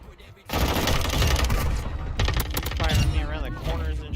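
Dense, continuous video game gunfire erupts after a brief quiet start and keeps rattling as overlapping shots, loud and close, with some talk underneath.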